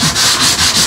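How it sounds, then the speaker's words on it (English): A sandpaper block rubs steadily across the wooden body of a Harmony Stratotone-style electric guitar, giving close, loud, continuous scratchy strokes in a quick back-and-forth rhythm. "I'm just using a bit of a sandpaper block here just to begin with."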